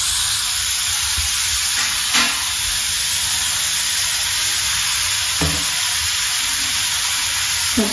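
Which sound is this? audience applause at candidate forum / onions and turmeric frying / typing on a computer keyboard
onions and turmeric frying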